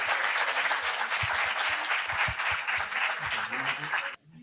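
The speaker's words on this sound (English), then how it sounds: "I'd like to just give them another round of applause." Sustained audience applause at a convening fills the room, a dense wash of many hands with some voices mixed in, cutting off abruptly near the end.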